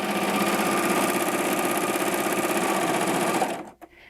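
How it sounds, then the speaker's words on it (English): A Baby Lock Acclaim serger with differential feed runs fast and steady while gathering fabric into a ruffle, a loud, close mechanical hum that stops abruptly near the end with a few clicks. "So to see what the differential feed will do, I'm going to put it on a ruffle. I'm just going to feed this right through."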